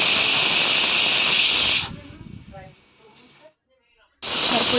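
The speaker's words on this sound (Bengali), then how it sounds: "এই যে সিটি পড়ে গেছে কাঁঠালে" A pressure cooker boiling jackfruit lets out a loud, steady steam hiss that cuts off abruptly and then bursts back at full force, with brief quieter gaps between.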